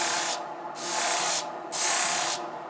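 A wooden spoon is being sanded in three long, rasping strokes. Each stroke is a broad, hissing scrape, separated by brief quieter pauses, with no talking.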